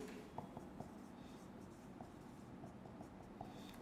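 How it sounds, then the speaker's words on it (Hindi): A pen writes out a chemistry reaction as faint, scattered scratches and taps over a steady low room hum, soft and close, with no talk. "तो अगला रिएक्शन लिखते हैं"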